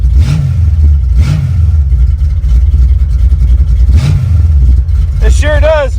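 A carbureted LS-swapped Chevy S10 engine idles loudly, with three or four quick throttle blips rising and falling over a rough rumble, and a voice chatters briefly near the end.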